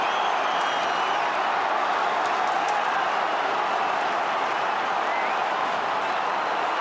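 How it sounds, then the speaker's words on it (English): A dense, steady roar from a Collingwood football crowd fills a stadium during a 2002 AFL match against the Brisbane Lions, loud and unbroken throughout with no distinct voice rising above it. "listen to that Collingwood crowd"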